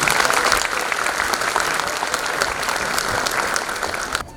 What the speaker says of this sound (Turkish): bu yarışmanın birincisi Özge Hanım'a kuvvetli bir alkış rica ediyorum sizlerden